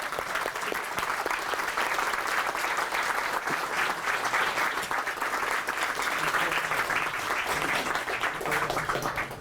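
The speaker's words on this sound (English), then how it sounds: "And applause and questions." A seated audience bursts into sustained applause after a conference talk, dense and loud clapping that holds steady for the full stretch without speech.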